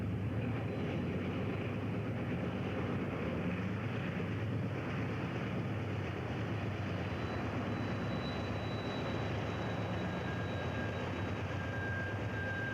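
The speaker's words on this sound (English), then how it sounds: "we filmed Southern Pacific freight trains" Southern Pacific freight train in the San Bernardino area in 1989, a steady broad rumble and roar holding at constant strength throughout, with a faint high whine running over it.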